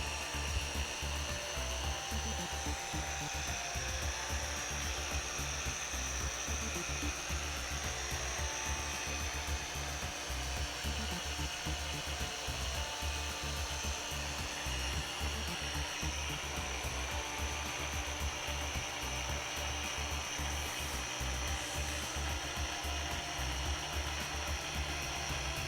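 A car polisher fitted with a microfiber cutting pad and compound runs on clear-coat paint, giving a steady, unbroken whirring hum at moderate level for the whole stretch, with no talking.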